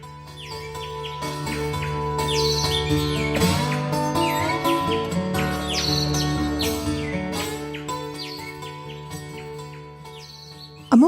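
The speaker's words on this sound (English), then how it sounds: "Dartford warblers can sometimes be seen sitting on top of gorse, singing." A Dartford warbler sings from gorse on a lowland heath in southern England. Quick, scratchy chirps and trills come in repeated bursts over a sustained tonal drone, and the song is moderately clear.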